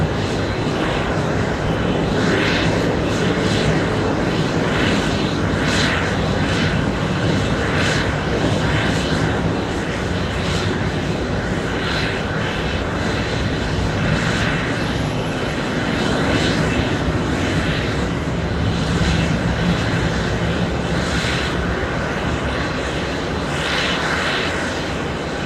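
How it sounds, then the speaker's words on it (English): An 18-year-old Delta Airbus A330-300 taking off at JFK bound for Athens produces a continuous, loud jet roar that holds steady for the whole stretch, with gentle swells in intensity. "A330 lifting off, heading to Athens, Greece."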